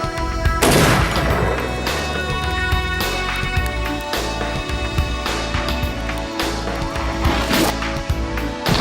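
Firearms are test-fired in a loud, dense series of gunshots and booms with short gaps between blasts and continuous ringing reverberation throughout.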